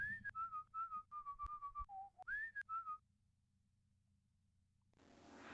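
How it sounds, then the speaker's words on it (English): A bard in the Warsim video game whistles an old gnomish tune, a short clear melody of quick repeated notes with one dip lower, lasting about three seconds before quiet and a soft hiss. "there is an actual whistling sound"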